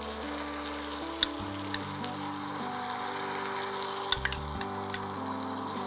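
Onions frying in a pan for pav bhaji, a steady close sizzle with a few sharp clicks and pops, over a low constant hum.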